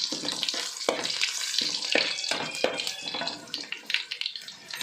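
Garlic fries in hot oil for a churumuri puffed-rice snack, a close, dense crackling sizzle with stirring scrapes and small pops throughout.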